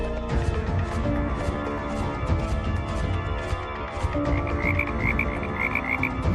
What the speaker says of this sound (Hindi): मेंढक के टर्राने की आवाज, मतलब इस तरफ तालाब होना चाहिए।